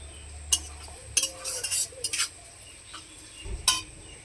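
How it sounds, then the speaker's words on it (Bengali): Spice paste with ginger and green chillies fries in a pan, a low sizzle broken by several sharp clinks and scrapes of a spoon stirring against the metal, with no talking. "আদার সঙ্গে মশলাটাকে ভালো করে ভেজে নেব"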